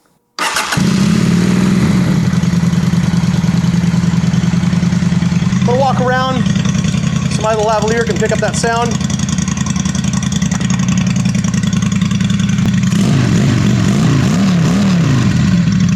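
A motorcycle engine with a cheap modified stock exhaust, baffles drilled out, idles with a steady low rumble throughout, with a few sharp revs in the middle; someone talks over it.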